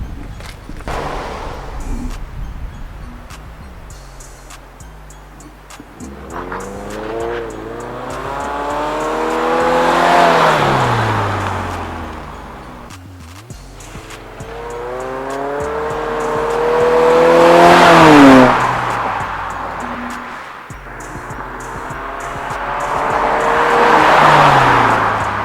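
A 2021 Subaru Crosstrek with an aftermarket axle-back exhaust revs repeatedly with a raspy, throaty exhaust note, pitch sweeping up and falling back in three strong surges, heard from outside close by.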